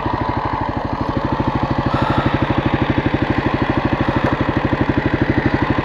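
A 1996 Kawasaki KLR 250 trail motorcycle engine idles close by with a steady, rapid thumping pulse that stays loud and even throughout, with no talking.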